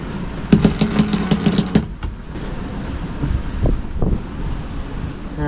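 Strong offshore wind buffets a sailboat at sea, roaring steadily with gusting rushes, sharp flapping or rattling bursts early on, and a few heavier thumps of water or gear later.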